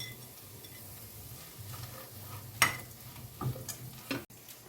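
Fried paneer stirred into cooked samosa filling in a pan, a soft continuous stirring and light sizzle with a few scraping clinks of the spoon against the pan, close and moderately quiet, no talking.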